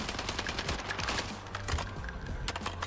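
Rapid automatic rifle fire from an STG in the Warzone video game, dense continuous bursts of shots throughout with brief gaps, loud and close, no talking over it.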